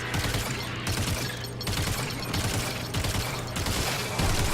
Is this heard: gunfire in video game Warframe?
yes